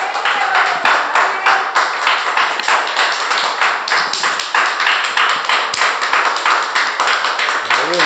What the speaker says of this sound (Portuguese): Se essas palmas são para Jesus,